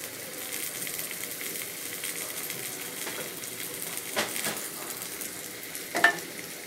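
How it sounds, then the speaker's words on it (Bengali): Onions and chillies frying in a pan over low heat while being stirred now and then, giving a steady, soft sizzle close by, with a few louder scrapes of the spoon near the end and no talking. "একটু বেশ মাঝে মাঝে একটু নেড়ে দিতে হচ্ছে এবং ভাজা ভাজা হচ্ছে"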